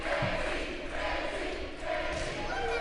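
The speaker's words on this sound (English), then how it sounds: "the crowd is uproaring for Casey" Volleyball crowd in a gym cheering for a player about to serve, a steady, fairly loud roar of voices and shouts that swells and dips over a few seconds, with an announcer talking over it.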